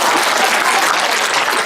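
Audience applause fills a church youth winter retreat lecture hall, a dense, steady clatter of many hands clapping at once, loud and continuous with no talk over it.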